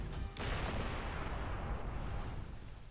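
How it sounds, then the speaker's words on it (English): Explosions in James Cameron's Avatar: The Game, a burst of booming blasts that settles into a continuous dense rumble and roar, loud and unbroken before easing slightly at the end. "Oh no, things are exploding."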